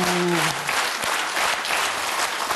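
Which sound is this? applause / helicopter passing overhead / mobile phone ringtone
applause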